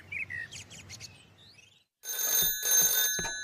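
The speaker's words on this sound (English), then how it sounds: "The next day, the phone rang in Pat's house." A telephone ringing in a house in a children's cartoon village, with bright repeated ring bursts starting after a short gap of soft bird-like chirps.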